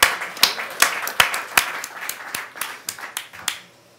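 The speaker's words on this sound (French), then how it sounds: "Une bonne main d'applaudissements" Sparse applause from a small audience welcoming a guest before a talk on keyboard shortcuts, with a few separate claps and snaps in an irregular rhythm that thins out toward the end.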